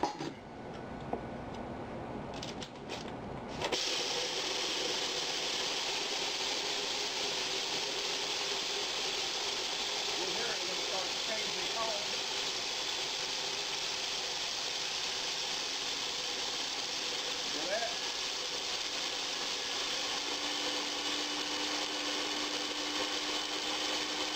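A sturdy-motored kitchen appliance grinds a full bowl of feed pellets into a cornmeal-like meal for chick starter and game bird feed, a loud, steady whirring roar that starts abruptly after a few seconds and runs on without pause.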